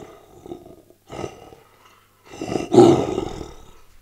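A person imitates a lion's roar by voicing through a paper towel roll, giving a few short hollow growls and then one loud, resonant, tube-muffled roar, close up, with no other talking.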